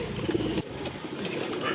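A pigeon gives a brief low coo at a busy weekly bird market, with the hum of the crowd and voices around it.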